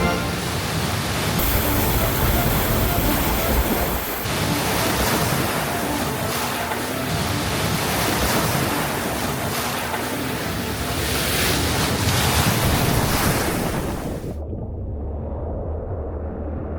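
Water rushes steadily and loudly while crossing the deeper stretch of Scioto Brush Creek, a continuous broad wash mixed with wind noise that cuts off abruptly near the end.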